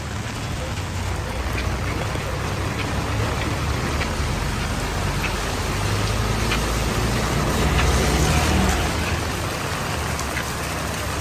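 Heavy rain with strong wind pours steadily and loudly in Jaffna, Sri Lanka, a dense unbroken hiss of drops drumming on surfaces close by, with a faint low rumble beneath.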